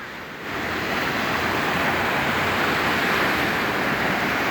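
Surf breaks along the Samsun seashore where a swimmer is entering the water, a dense rushing wash that swells up after a quieter first half-second and then stays loud and even, with wind noise and no talk.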